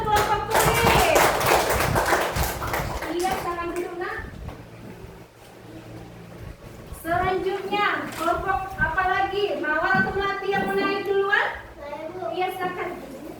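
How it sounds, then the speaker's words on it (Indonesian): Classroom students clap in two bursts of applause, with children's voices and chatter mixed in between and after. "Kalau begitu berikan tepuk tangan"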